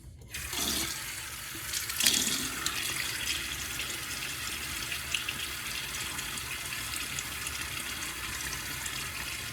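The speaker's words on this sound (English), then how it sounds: "And, John, let me get my face wet." Water runs steadily from a tap into a sink at a barbershop before a shave, a continuous close splashing hiss that starts with a couple of brief bumps.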